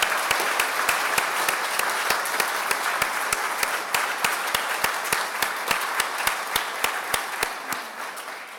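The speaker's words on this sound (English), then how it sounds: "Let's have one last round of applause for our distinguished doctoral and master's graduates." Sustained applause from the audience at a 2019 biological sciences commencement ceremony, honoring doctoral and master's graduates. Dense, steady clapping fills the hall at an even level, then eases slightly toward the end, with no talking over it.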